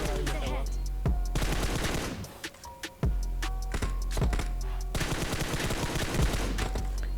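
Bursts of automatic gunfire from a bot in the PUBG video game crackle in rapid sharp volleys, with a brief lull midway before more shots resume, a faint voice murmuring in the background.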